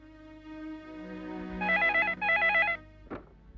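An electronic telephone rings in two warbling bursts over a steady musical drone, followed by a short click.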